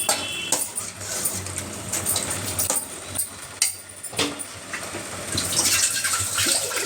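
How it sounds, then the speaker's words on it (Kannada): Water poured from a tap or vessel into a pressure cooker of dal in a home kitchen, a steady gushing splash that runs close and loud for several seconds with brief dips and surges. "ಇವಾಗ ಅದೇ ಕುಕ್ಕರ್ಗೆ ಇನ್ನೊಂದು ಸ್ವಲ್ಪ ನೀರು ಹಾಕಿದ್ದೀನಿ"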